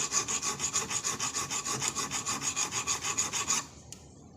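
A hand file rasps steadily across an auger drill bit being sharpened, about twenty even, rhythmic strokes close up, then stops, leaving near silence with one small tap.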